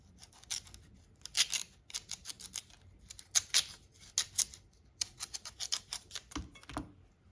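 Cassava being peeled with a knife for fries in a home kitchen, a run of quick, crisp scraping and slicing strokes in bursts, close and fairly loud with short pauses between them.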